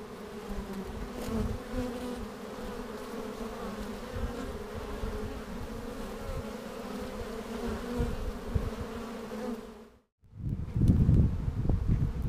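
Honey bees swarming around an active beehive early in the season, with lots of pollen-laden foragers coming and going: a dense, continuous, close drone of buzzing wings, broken by a brief dropout near the end before the buzz returns louder.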